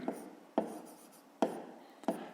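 Pen strokes scratching on paper during a fifth-grade maths exercise, four distinct bursts of writing, close and fairly quiet, with no talking.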